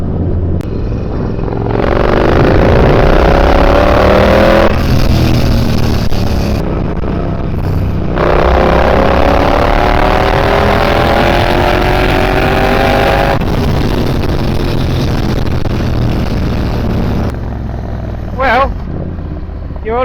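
A Triumph Bobber motorcycle with a freshly rebuilt engine ridden on the road, its engine droning loud and steady through repeated rises and drops in revs as it shifts gears, with wind rush throughout.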